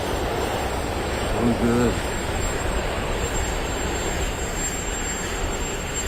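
An airplane coming in overhead, a loud continuous broadband engine roar filling the background throughout, with someone speaking briefly over it.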